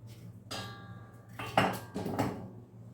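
Potatoes drop into a metal pot in a few hard clunks and knocks, one early thump then a cluster of heavier hits, close by over a low steady hum, with no talking.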